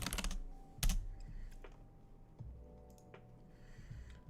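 Typing on a computer keyboard, a few sharp clustered keystrokes near the start followed by scattered lighter taps, close and fairly quiet with no talking.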